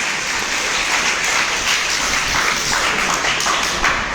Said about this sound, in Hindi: तो भाई के लिए बहुत जोरदार तालियां बजा दें